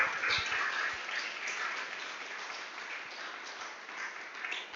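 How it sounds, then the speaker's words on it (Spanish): A church congregation claps in a steady wash of applause, faint and somewhat distant, holding evenly for several seconds with no talk over it. "Denle un aplauso al Rey de Gloria."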